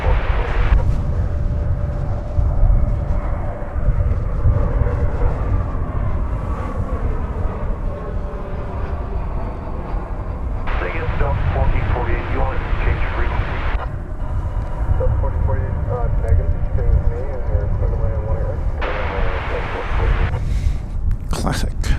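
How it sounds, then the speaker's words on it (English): Airliner at DFW Airport during morning plane spotting, a loud, low jet engine rumble and roar that swells and fades with passing aircraft, steady throughout with no speech over it. "Can't take my eyes off this plane though."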